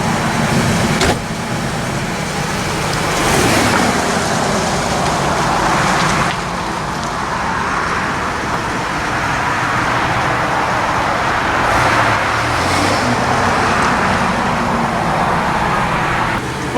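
A Chevrolet S10 pickup with a 4.3 V6, suspected of overheating, is driven hard, its engine droning loud and close with rising and falling revs and a couple of gear-change dips over road noise.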